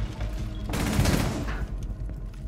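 Gunfire shot through a wall in a shooter video game: a short, dense burst of rapid shots swells for under a second, then tails off into quieter game ambience.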